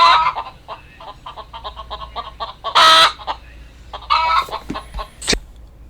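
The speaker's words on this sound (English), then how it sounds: "Chickens are not noisy. Can you hear them?" Backyard chickens cluck in repeated short bursts close by, with a few louder squawks standing out and no talk over them.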